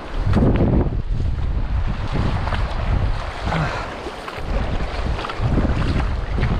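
Strong wind roars and buffets the microphone in continuous gusts near open water, with low rumbling surges and no voices.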